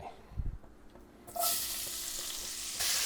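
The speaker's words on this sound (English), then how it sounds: "Let's get that onion in the pan." Onion dropped into hot bacon fat in a pan bursts into a loud, sustained sizzle after a few quiet handling knocks.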